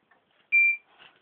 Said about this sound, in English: oh, smoke alarm.